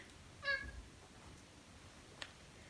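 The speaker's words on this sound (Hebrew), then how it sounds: "אוקיי, החתול שלי נכנס לפריים." A house cat gives a single short, clear meow near the start, then only faint room noise remains with one small click later on.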